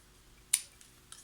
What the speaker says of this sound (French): il est encore temps de couper ce qui dépasse